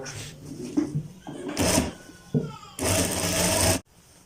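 A sewing machine runs in short bursts while stitching a kalidar kurta, with a longer steady run near the end between brief pauses and handling noises.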